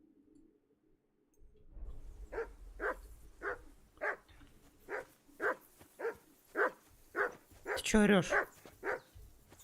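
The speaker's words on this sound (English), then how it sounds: "call that dog to heel" A dog in Kingdom Come: Deliverance II barks repeatedly in a steady run of about a dozen sharp barks, fairly close, with a whine near the end and someone speaking over part of it.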